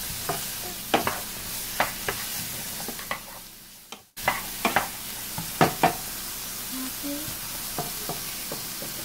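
Chopped onion sautéing in a pan over low heat for mushroom quesadillas, with a soft steady sizzle and occasional stirring knocks of a utensil against the pan, a brief break midway, then more stirring.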